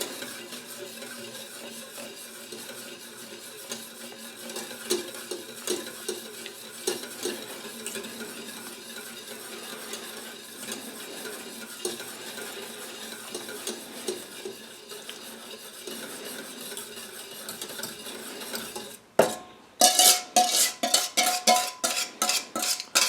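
A spoon stirs custard mixture into cream for homemade ice cream, a steady soft scraping and swishing in a pot that ends in a run of sharper, rhythmic clinks and taps, with no voices.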